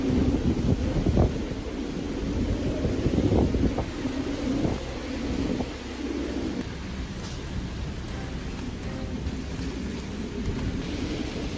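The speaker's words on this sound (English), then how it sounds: "Ferocious winds from a major storm roared across northern Illinois, sounding as if they could lift the ground itself." Ferocious storm winds roaring across northern Illinois during a major storm, loud gusty rumbling with heavy buffeting on the microphone and rain-like hiss, strongest early then easing to a steady roar, with no talking.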